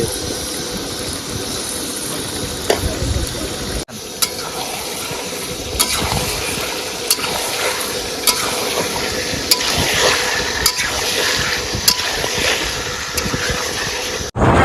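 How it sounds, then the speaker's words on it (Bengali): Chicken leg pieces, chopped pieces, body pieces and liver frying in oil by the Matla river, a steady crackling sizzle with scattered sharp clicks of stirring and a brief dip partway through, no talk. "প্রথমে দিলাম চিকেন লেগ পিস, তারপর দিলাম কুচনো পিস, বডির পিস মেটে।"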